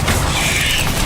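Confringo and Incendio spell blasts from the Hogwarts Legacy video game: a dense, loud, continuous burst of booming, crackling energy with a bright hissing sweep through the middle, filling the whole second without pause.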